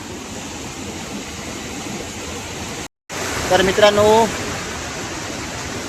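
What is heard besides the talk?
waterfall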